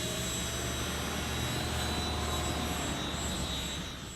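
A Walkera CB180Z RC helicopter in flight gives off a loud, steady whining motor and rotor drone with a high tonal whine, holding level before easing off at the end.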